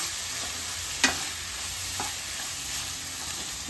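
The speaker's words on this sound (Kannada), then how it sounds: "ಒಂದ್ಸರಿ ಎಲ್ಲ ಮಿಕ್ಸ್ ಮಾಡೋಣ" A spoon stirs an egg and grated carrot mixture with chapati pieces in a pan over a steady low sizzle, with a couple of soft scraping strokes against the pan.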